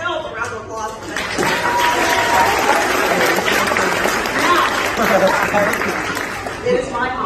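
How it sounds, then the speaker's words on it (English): A theater audience aboard the Star Wars Galactic Starcruiser applauds steadily and loudly for several seconds, the clapping dense and sustained with cheering voices mixed in. "Give yourself a round of applause for that."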